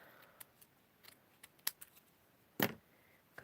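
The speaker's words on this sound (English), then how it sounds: "I'm going to cut this in half" Scissors snip through fabric or paper being halved for homemade Easter bunting, a few light clicks followed by one loud, close cut, alone in a quiet room.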